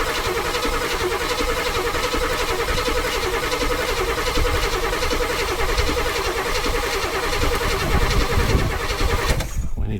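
A 1976 Chevy C30 truck engine that sat for decades under a tree cranks continuously and loudly at close range, a steady rapid starter churn for about nine seconds before cutting off without catching.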